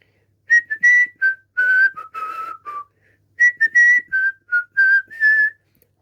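A lively tune, a Disney song, is whistled solo, clear and close, in two phrases with a brief pause between them.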